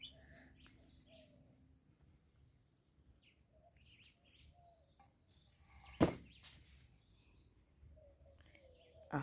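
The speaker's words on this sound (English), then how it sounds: "Guys, the birds are out in their numbers." Scattered bird chirps and short calls at moderate distance over a quiet outdoor background, with a brief sharp knock partway through.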